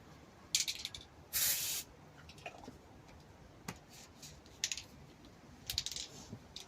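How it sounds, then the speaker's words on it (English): A spray paint can fires a loud, steady hiss for about half a second while touching up a Mk3 Cortina estate, with shorter spray bursts and clicks before and after. "Always turn your paint can upside down and spray it till it goes clear"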